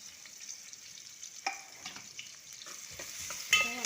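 Onion and crushed ginger and garlic frying in a pan over a wood-fired stove for village-style chicken, a quiet, low sizzle with light stirring and the occasional small metallic clink. No one speaks.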